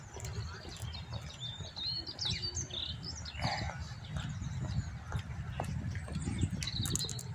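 Pigeons, crows and other birds chirp and call intermittently in Parc Monceau, Paris, with scattered short tweets over a steady low rumble of background noise.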